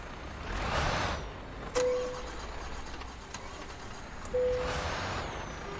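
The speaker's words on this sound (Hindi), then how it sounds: "ट्रक के इंजन।" In Euro Truck Simulator 2, a truck engine drones low and steady, fairly quiet, with two brief louder bumps and short tonal blips over the rumble.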